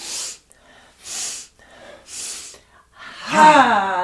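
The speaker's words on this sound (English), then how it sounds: "inhale, inhale, inhale, exhale" Breath of Joy exercise with three sharp, forceful inhales in rhythm followed by one long voiced exhale, loud and close.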